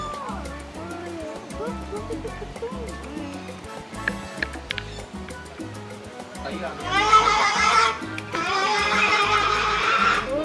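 Otters at Zoo Miami give repeated shrill, wavering calls that sound like turkeys, harsh gobble-like squeals growing louder and denser near the end, while people talk over them.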